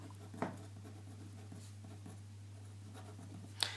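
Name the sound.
writing on a board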